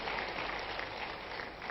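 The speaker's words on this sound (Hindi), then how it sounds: "सिंगरौली वाले विधायक, जरा ताली वाली बजाओ" An audience at a Madhya Pradesh government event claps, a dense, steady patter of many hands held at a moderate level throughout the short stretch.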